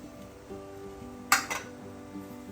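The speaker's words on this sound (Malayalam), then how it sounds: "ഇത് നന്നായി ഇളക്കി കൊടുക്കുക" A spoon clinks against a pan while a Kerala tea-time snack mixture with crushed green coriander is stirred, giving two quick metallic knocks near the middle over a quiet kitchen hum.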